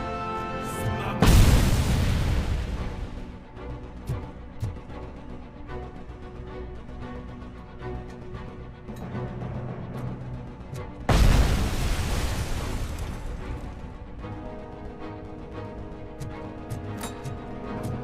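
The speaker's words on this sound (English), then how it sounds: "Throwing firecracker!" Two loud firecracker blasts go off in the RoboCop: Rogue City video game, one around a second in and another near eleven seconds, each a sharp boom with a lingering rumble over a steady game soundscape.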